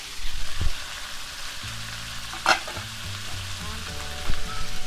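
Snakehead fish curry stir-fries in a pan with a steady sizzle, while a spatula scrapes and clatters against the metal now and then.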